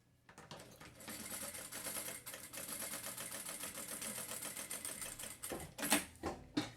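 A sewing machine stitches a finishing hem on the fabric of a small backpack, forming the channel for the elastic. It runs as a steady, close, rapid whir for about five seconds, then gives a few short bursts.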